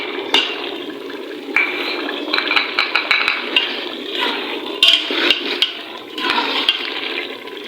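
White beans frying in ghee with red chili in a pan, a steady loud sizzle and hiss running throughout, with scattered metallic clinks and scrapes of a spoon against the pot, close up, no voices.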